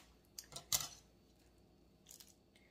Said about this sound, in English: I snipped off the corner of this bag.